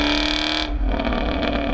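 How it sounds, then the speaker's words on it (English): A 2016 Chevrolet Camaro SS V8 engine roars loud and close, a dense steady growl that briefly drops in pitch as the revs shift and then keeps pulling hard. "the car sounds fantastic."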